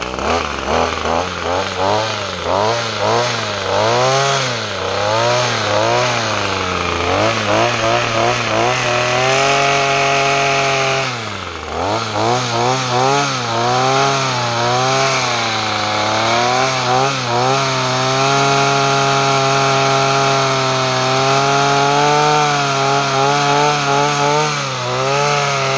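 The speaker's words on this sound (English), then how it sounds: "Sounds like it's idling well and that it's running, but can you hear that clicking sound every once in a while?" A small engine idles steadily and loudly up close, its pitch wavering and dipping now and then, with faint intermittent clicking heard over the running motor.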